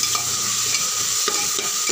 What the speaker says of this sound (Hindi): हल्दी और धनिया, इन तीनों को भी मिक्स कर